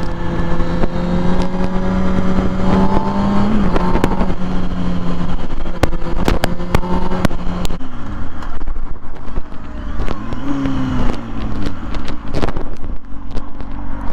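A 2006 Kawasaki Ninja ZX-6R 636 sport bike engine drones loud and close while riding, its pitch rising and dipping through shifts, with steady wind rush and a few sharp clicks along the way.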